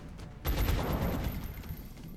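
Predator cannons firing in the XCOM: Art of War video game: a sudden loud burst of rapid gunfire that rumbles on and slowly fades, with no talking.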